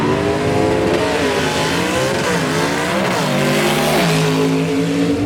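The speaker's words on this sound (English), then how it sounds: "He literally shifts into second gear while the front end is still in the air." Adam Lowhorn's gasser drag race car, the 'Rod Slinger', accelerates hard down a Southeast Gassers dragstrip at Lassiter Mountain Dragway, its loud engine roaring and rising through the revs, with a gear change about midway and no talk.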